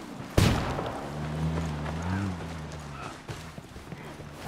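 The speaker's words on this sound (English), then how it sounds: "Throwing a flashbang." A flashbang goes off in the Ghost Recon Wildlands video game as a single sharp bang near the start, followed by a lingering tone and soft movement, with a voice speaking faintly in the background.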